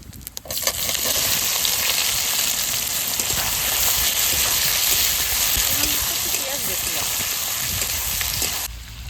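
About 400 grams of onions hit hot oil with whole spices for a mutton curry, filling the pan with a loud, continuous close-up sizzle and crackle that cuts off abruptly.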